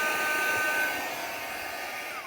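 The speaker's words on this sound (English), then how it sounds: "I'm going to hit that with the blow dryer" An old hair dryer with high and low settings blows over a mixed media canvas, a steady loud whooshing motor hum that runs continuously and eases slightly in intensity as it goes, with no voices.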